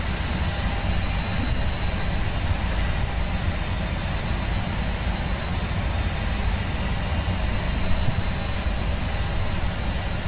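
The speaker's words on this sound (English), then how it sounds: "A bit more power going into the engines there" Steady, unbroken jet engine roar of a simulated A319 airliner in Prepar3D, a dense broadband rumble holding at an even level throughout with no voices.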